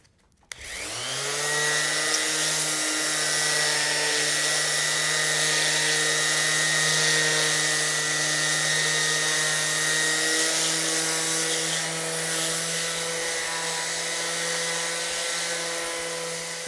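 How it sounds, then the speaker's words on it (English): Electric sander running steadily on wooden table pieces during a simple furniture build, a loud continuous motor whine with a steady hum that starts abruptly and holds nearly unchanged throughout, with no talk. "Now you don't really have to push hard on the sander"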